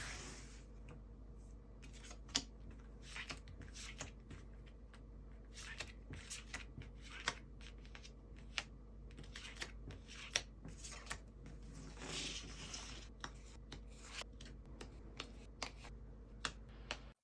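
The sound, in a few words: shuffling tarot cards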